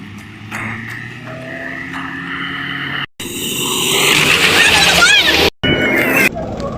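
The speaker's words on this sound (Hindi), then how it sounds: "ये गाड़ी पहुंचने वाली है।" Car climbing a mountain road toward Babusar Top, with engine drone and tyre and wind roar rising and cutting out briefly, close and loud, with people talking over it.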